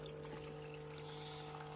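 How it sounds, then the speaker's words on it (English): Water runs and pours steadily through a gold sluice at a mountain prospecting site, a faint continuous wash alongside a low steady hum. "Let me turn this water back on."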